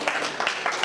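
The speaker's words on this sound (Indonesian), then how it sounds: "Tepuk tangan untuk petugas LCD kita." A church congregation gathered for a Sunday service applauds the LCD operators, producing a brief patter of scattered hand claps from a moderately sized crowd.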